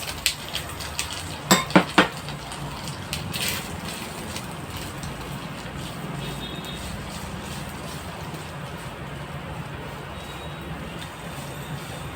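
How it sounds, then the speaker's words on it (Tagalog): Onions go into a hot pan for ginataang sigarilyas: a few quick metallic clanks of utensil on pan near the start, then a steady, close frying hiss that carries on evenly with no one speaking. "Lagay natin yung ating sibuyas."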